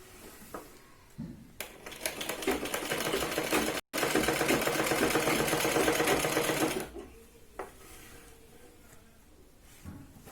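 A sewing machine stitching the neckline of a Punjabi top with main fabric over lining, running in a steady loud whirr for several seconds with a brief pause, framed by quieter handling clicks.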